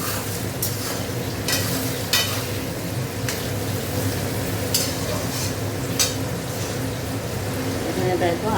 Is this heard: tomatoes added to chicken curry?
yes